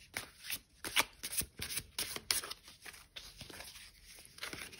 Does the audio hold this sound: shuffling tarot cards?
yes